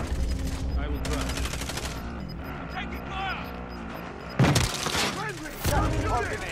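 Gunfire in the battle royale game Call of Duty Warzone, sharp bursts of shots and cracks erupting loudly in several clusters amid vehicle rumble, with excited players talking over the action.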